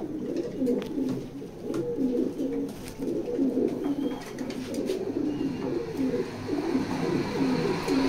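A large male checker pied pigeon in a loft gives a steady run of rolling, throaty coos, close and distinct with no talk over them.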